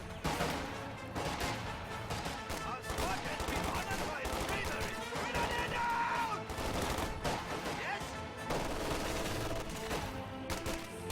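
Machine gun and rifle fire in a World War II strategy video game with an MG42 and grenadiers, dense overlapping bursts of gunfire over music and battle noise, under continuous talk.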